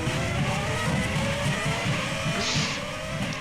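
Several race cars in a sim racing game roar past in a pack during an online V-Prix, a steady loud engine drone with pulsing revs and a brief tire squeal, no talk.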